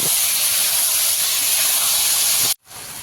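A paste of ginger, cumin, black pepper and green chilli is sautéed for a rohu fish curry, making a loud, continuous hiss that cuts off abruptly near the end and then resumes more softly.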